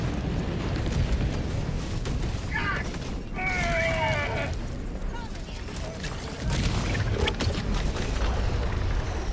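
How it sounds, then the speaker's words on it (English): A 500 kg bomb strike in Helldivers 2 battle with booming blasts and rumbling debris amid gunfire and mechanical clatter, loud and close, with brief whistling tones overhead and players calling out. "500 KG bomb inbound"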